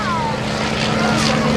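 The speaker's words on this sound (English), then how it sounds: "This aircraft is powered by a reciprocating engine that's just like your car engine, a piston engine, utilizing gasoline." Bell 47 helicopter with a gasoline piston engine and rotors at a rotorcraft demonstration, a loud steady engine drone with a low hum and a faint whine sliding downward, running continuously throughout.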